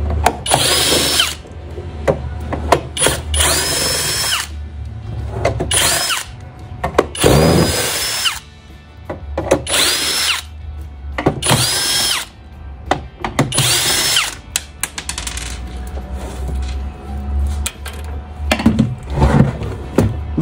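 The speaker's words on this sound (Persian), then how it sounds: "اولین کاری که برای باز کردن چرخ گوشت نانیوا انجام بدیم اینه که پیچ های زیرش رو باید باز کنیم" A power screwdriver backs screws out of the underside of a Naniwa meat grinder, repeated short whirring bursts separated by brief pauses, close and loud, with light clicks and handling noise between runs.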